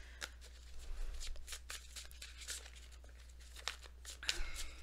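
Tarot cards are shuffled by hand in quick papery riffles and slides, soft and close, with a low steady hum underneath.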